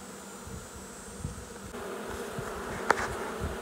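Honey bees buzz steadily inside an opened hive box, a continuous low drone with no talk over it and one brief sharper sound near the end.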